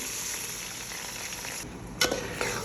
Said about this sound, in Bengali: এখন ধুয়ে রাখা চালগুলো দিয়ে দিচ্ছি।